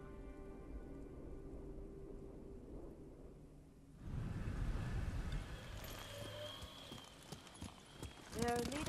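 A horse ridden in the samurai game Ghost of Tsushima clip-clops along in a steady, rhythmic gait, with rain falling and a voice speaking over the hoofbeats.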